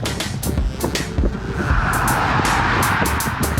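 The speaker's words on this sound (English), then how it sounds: "Okay, so one car did pass us." A car sweeps past a group of cyclists on an open road, rising and fading over a few seconds, with steady wind rumble and the riders' bike noise underneath.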